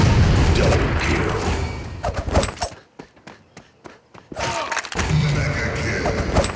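Grenade blasts in the shooter game Critical Strike: dense, loud booming rumble with thuds, a brief lull of scattered knocks, then another roaring burst, with a voice faintly underneath.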